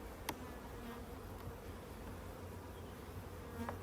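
Honeybees drone in a steady, faint hum inside an open hive under smoke during a summer inspection, with a couple of small clicks or taps from handling the frames.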